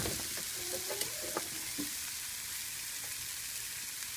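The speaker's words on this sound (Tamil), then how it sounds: "அதில் அப்படியே வேக வச்சுருங்க இதனால் டீப் ஃப்ரை ஆகட்டும்" Food deep frying in hot oil for egg puffs, a constant close sizzle with faint stirring clinks early on.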